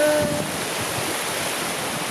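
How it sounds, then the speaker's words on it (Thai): Brief steady wash of surf, a soft broadband rush of waves breaking on a beach in Pattaya, Thailand, with no voices. "เสียงคลื่นซัดสา"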